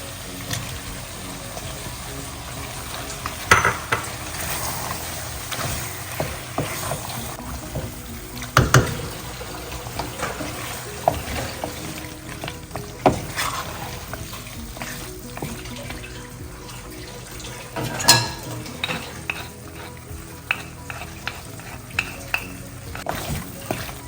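Onion masala for mutton pulusu stirred in a pan, a steady low sizzle with scraping spoon strokes and occasional sharper clinks, close and alone.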